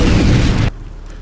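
A loud, dense roar like an explosion fills the first half-second, then cuts off abruptly into a quiet, low rumble.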